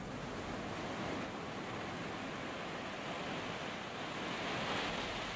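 Ocean waves break and surge below a Balinese temple on the southernmost tip of the island, a steady roar of surf and wind, distant and continuous, with no voices.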